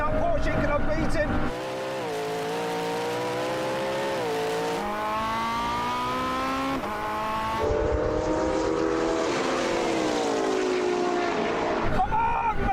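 A Porsche and a McLaren race car accelerate side by side in a drag race, engines rising in pitch through several gear changes, loud and sustained, with a person talking over the roar.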